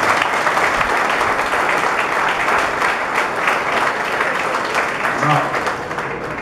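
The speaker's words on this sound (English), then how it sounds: "give a round of applause for your" Sustained applause from a crowd at a maritime academy event, steady clapping filling the whole stretch at a loud, even level.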